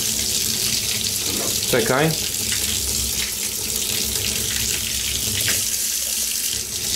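Water runs steadily from a tap into a sink in a home with no hot water heated, a loud continuous rushing that fills the whole stretch while a voice briefly speaks over it.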